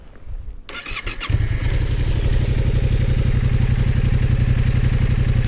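A 2021 Yamaha MT-07 motorcycle engine is cranked and fires up about a second in, then settles into a steady, moderately loud idle with a regular throbbing pulse, nearby and without talk.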